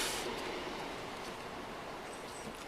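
A train rumbles past nearby with a steady broadband roar and faint wheel squeal, loud and continuous throughout, with no voices heard.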